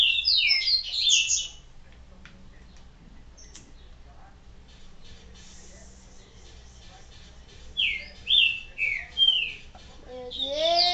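Video game birds from Resident Evil 4 chirp in bright, quick bursts at the start and again near the end, with a quiet stretch between and a rising whistle-like call at the close.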